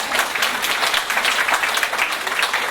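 An audience in a school district opening-day gathering applauds steadily, a dense, even wash of many hands clapping throughout.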